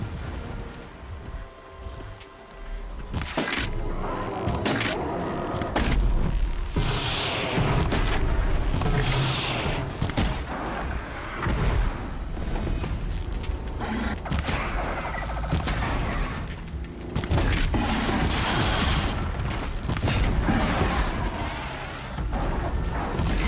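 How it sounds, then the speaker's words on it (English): Distant explosions boom and rumble in Horizon Zero Dawn, a dense run of deep blasts and crashes rolling on continuously without talk. "Explosions in the distance. Pay that no mind."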